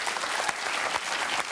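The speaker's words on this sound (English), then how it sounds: "How about a hand for the panel, everybody?" A studio audience claps for a comedy panel on a Canadian TV show, with steady, dense applause filling the whole short stretch at moderate loudness with no talk over it.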